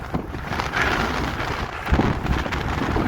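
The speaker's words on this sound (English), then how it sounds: "Oh, our wind's a bit brutal" Strong gusting wind buffets the microphone on Hay Bluff in the Black Mountains of South Wales, a steady loud roar with surging blasts and no talk.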